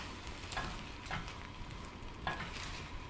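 Scrambled egg being stirred and pushed around a frying pan while it cooks, a soft steady sizzle with a few light scraping strokes of the utensil.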